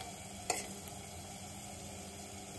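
Sliced onion for pohe frying in a pan, a steady soft sizzle throughout with one brief clink of a spoon near the start.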